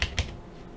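A few quick keystrokes on a computer keyboard while entering data for a C# trading platform, two sharp clicks near the start, then quiet.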